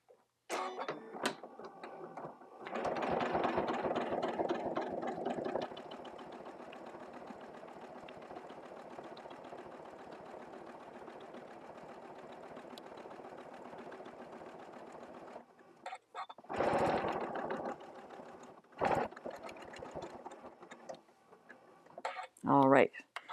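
Domestic sewing machine running a continuous straight stitch around an appliqué circle, a steady whirring motor with rapid needle ticking that pauses briefly and then restarts in short bursts.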